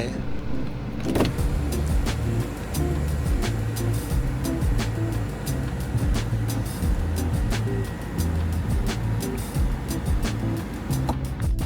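The sunroof of a 2020 BMW X3 xDrive 20d M Sport slides open and closed, its electric motor giving a steady, pulsing whir heard close inside the cabin.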